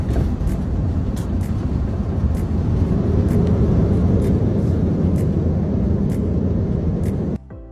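Airbus A340 airliner rolling out after landing at Abuja, a loud, steady broadband roar of engines and runway rumble filling the whole stretch, then dropping off abruptly near the end.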